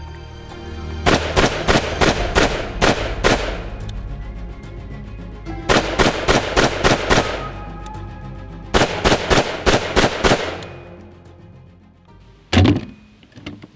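Rifle gunshots ring out in three quick strings of about six to eight sharp, loud cracks each, separated by short pauses, then one final heavy shot near the end, with no talk.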